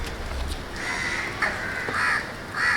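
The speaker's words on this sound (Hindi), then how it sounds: "और देखो कौवा आया बिल्ली का खाना खाने।" A crow that came to eat cat food caws loudly and close by, giving several harsh calls in a row with no voices.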